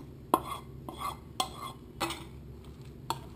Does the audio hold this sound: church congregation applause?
no